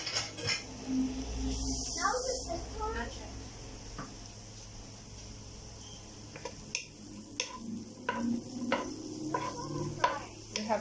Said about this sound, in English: I wanna put it in. I mean the garlic. Oh, this is gonna fry.